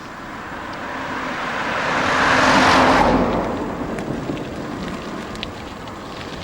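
A car passing along a quiet country road near Balquhidder, its tyre and engine noise swelling to a broad rush at the midpoint and then fading away, with steady outdoor background hiss throughout.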